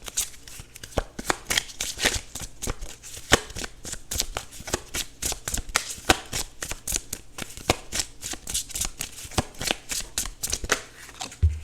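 A deck of tarot cards shuffled continuously, giving a dense, steady riffle of papery flicks and slaps throughout, close and loud, with no voices.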